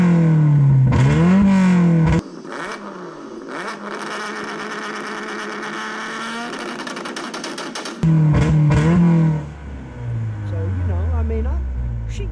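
A Suzuki side-by-side with its regular exhaust revs hard in short bursts at the start and again near the end, with a steady loud idle and whirring mechanical clatter in between.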